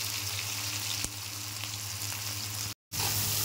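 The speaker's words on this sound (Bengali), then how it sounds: "পেঁয়াজটা ছেড়ে দেবো। পেঁয়াজটা দিয়ে দেবো" Onion sizzling and frying steadily in hot oil in a home kitchen pan, a continuous close crackling hiss with a brief drop-out near the end.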